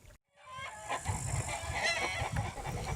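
Black Alsatian hens cluck and squawk close by in a busy farmyard at a farm inn in the Vosges, overlapping calls forming a continuous noisy chorus.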